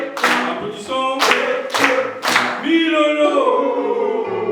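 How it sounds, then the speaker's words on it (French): Loud, sharp claps from a congregation at a church thanksgiving celebration come in a few rhythmic bursts, mixed with tonal music, followed by a sustained musical passage. "Frères et sœurs, levons-nous pour applaudir Papa chargé de la communication."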